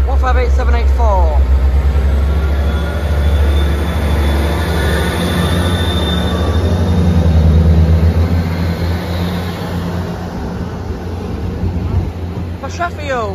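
A Northern passenger train, unit 158784, rumbles loudly and steadily into Meadowhall Station, wheels grinding and squealing on the rails, and a voice is briefly heard.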